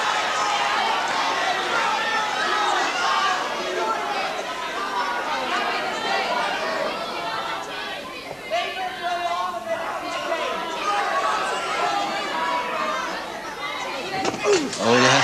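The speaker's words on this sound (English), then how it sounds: "The crowd loving it, as you can hear." A 1984 British wrestling crowd keeps up a steady roar of chatter, cheers and shouts throughout a bout between Marty Jones and Fit Finlay, a dense, lively hubbub with occasional louder swells near the end.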